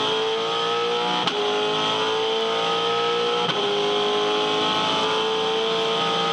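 V8 Supercar racing at the 2010 Yas 400, accelerating hard on throttle through the corkscrew, a steady loud engine roar close up with two brief gear-change blips.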